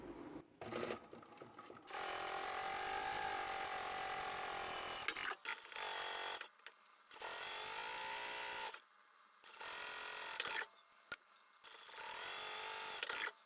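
Sewing machine stitching the seam of a fabric bag panel, running in several steady motor bursts separated by short pauses, close and fairly loud with no talking.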